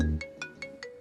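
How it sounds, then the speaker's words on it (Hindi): A phone ringtone chimes four times in an even, quick rhythm for an incoming call, bright and fairly clear, following a brief low sound at the start with no talking over it. "अरे हाँ, उसी का फोन आ रहा है।"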